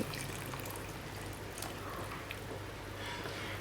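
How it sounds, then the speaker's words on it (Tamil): Water is poured into a pan of green gram sprout gravy, a faint, steady trickle lasting a few seconds under a low background hum, with no talking. "இப்போ நம்மளுக்கு எந்த அளவுக்கு வேணுமோ அந்த அளவுக்கு தண்ணி சேர்த்துட்டு"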